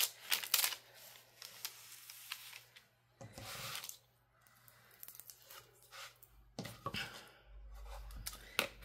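Crafting material being peeled off its backing sheet in several short crackling, rustling bursts, close and quiet, separated by pauses of near silence.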